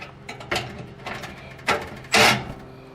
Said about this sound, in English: I'm taking my impact gun here.